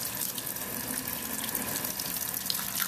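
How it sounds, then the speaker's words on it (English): Running water from a sink tap pours steadily as hands are rinsed of soap lather, a continuous close hiss and splash with no talk. "Now, I'm rinsing. Make sure you get all the bubbles, all the lather off of your hands without touching the inside of the sink."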